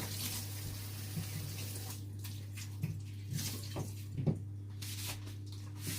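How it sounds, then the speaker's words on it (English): Hands being washed under a running kitchen tap, a steady rush of water with soft splashes and squishing, over a constant low electrical hum, no voices. "Let me wash my hands."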